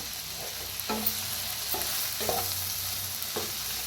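Cooked dingri mixed with crushed peanuts, sesame and coconut in a pan, with a few soft, evenly spaced spatula scrapes and light knocks over a constant low sizzling hiss, close by and without speech.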